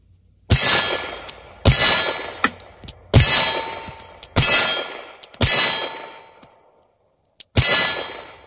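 Pistol rounds from a Palmetto State Armory Dagger strike a steel target, giving six sharp metallic clangs at irregular intervals, each ringing out briefly, with a couple of faint extra pings between, loud and close with no speech.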